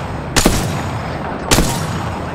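Two loud close gunshot bursts ring out in the video game Apex Legends, spaced about a second apart over steady game ambience.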